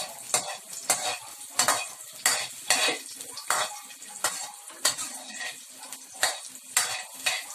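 Onion fries and sizzles in a pan while a utensil stirs and scrapes it in a regular rhythm, close and fairly loud, for a Hawaiian macaroni spaghetti with liver spread.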